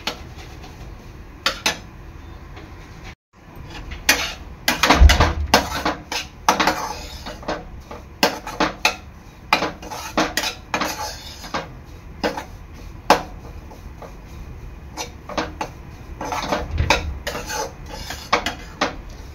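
Semolina roasts in ghee over a low flame while a spoon stirs it around the pan, making irregular clinks and scraping knocks against the metal, close by with quiet gaps between strokes.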